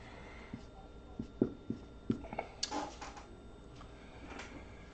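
Marker or chalk writing on a board during a logarithms lesson: a string of short taps and scratchy strokes, close and fairly quiet, with no talking.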